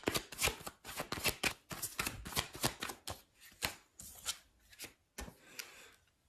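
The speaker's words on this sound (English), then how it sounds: "Let's get another card here." A tarot deck is handled and shuffled, with a card drawn out: soft papery riffles, rubs and flicks come in quick clusters close by, fading to a few sparse taps, with no voices.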